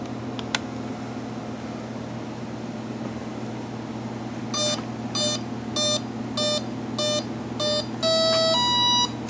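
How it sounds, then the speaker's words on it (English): A steady electric hum runs throughout, then an electric bike controller sounds six short electronic beeps in an even rhythm, ending with a longer two-tone beep. "you've heard the six beeps"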